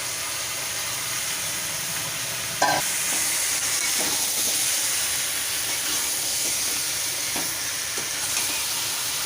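Tomato and chili powder fry in a pan of spices with fenugreek and ginger, making a loud, steady sizzle and hiss. A sharp burst comes as the ingredients go in, followed by occasional stirring scrapes.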